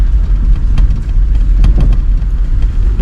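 A 1.6-liter manual car's engine revs during driving practice, a loud, close low rumble that holds steady for a few seconds, the engine note swelling slightly as it pulls.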